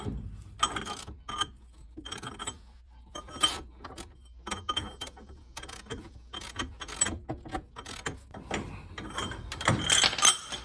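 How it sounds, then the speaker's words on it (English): A ratchet worked with a cheater bar clicks and clatters in irregular bursts on the front suspension of a 1957 Studebaker Silver Hawk, with metallic ticks and clanks close by and no talking. "Starts to get difficult when you break out the cheater bar."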